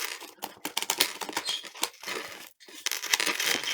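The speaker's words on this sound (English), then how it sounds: "I'm shuffling the cards now" Playing cards are shuffled close up in a run of crisp riffling bursts and papery flutters, with one brief pause before a final shuffle.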